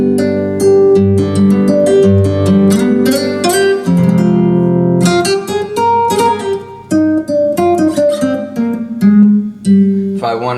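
Concert guitar voice on a Yamaha CVP605 Clavinova digital piano plays a busy, plucked run of notes and strummed chords with sharp attacks and short decays, loud and steady, with no talking.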